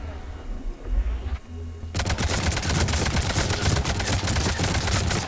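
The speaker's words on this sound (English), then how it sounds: "We got an auto rifle here." Auto rifle in the Destiny video game firing a sustained, rapid burst of loud shots, starting about two seconds in after a brief low rumble and continuing steadily to the end.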